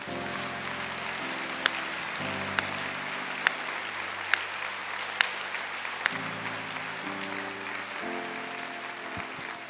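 Applause from a church congregation at a worship conference, steady and continuous for about ten seconds, with sustained organ or keyboard chords underneath and a few sharp transients.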